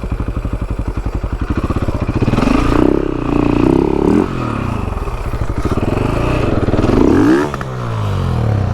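Enduro motorcycle on a remote Vancouver Island trail revving hard under too much throttle, a loud close engine that surges up and drops back repeatedly.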